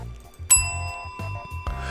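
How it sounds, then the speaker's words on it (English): A bell rung once on a live show gives a sharp struck ding with a long, ringing tone that fades over about a second. It rises between stretches of low, murmuring background sound. "I forgot my bell"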